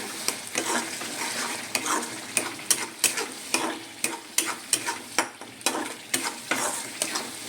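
Green chili paste and chili powder being stirred and sautéed in a pan, a continuous sizzle punctuated by regular, sharp spatula scrapes roughly every half second, close and clear with no talk.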